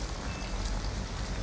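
Steady rain falls in the video game Detroit Become Human, a dense, even hiss of drops that holds close and unbroken throughout.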